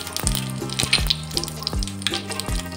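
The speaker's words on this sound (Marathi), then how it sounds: "जिरं आपल्याला चांगलं तडतडू द्यायचं" Cumin and mustard seeds, with a pinch of hing, crackling in hot oil for a tempering; loud, close sizzling with sharp popping bursts at an irregular rhythm throughout.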